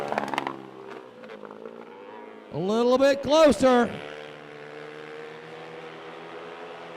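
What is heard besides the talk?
4-stroke racing quad engine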